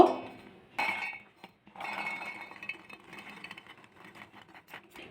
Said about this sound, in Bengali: একটা মিক্সির বাটির মধ্যে কড়াশুটিগুলো দিয়ে দেবো